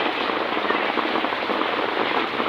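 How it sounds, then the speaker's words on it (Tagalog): Heavy rain pours down steadily and loudly in a dense, continuous hiss, nearby and with no breaks, near a rice store and chicken shop. "Grabe, lakas ng ulan mga kagwang."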